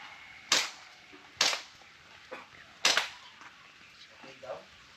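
Airsoft gun shots ring out as sharp, snappy cracks, three prominent ones at uneven intervals followed by a couple of fainter pops, with a quiet background and soft voices.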